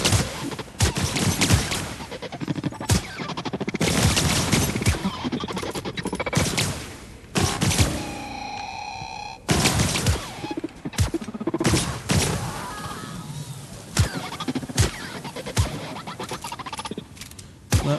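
Gunfire in the video game The Outer Worlds, with dense, loud bursts of suppressed shots, crackling impacts and clatter coming in rapid clusters with brief pauses.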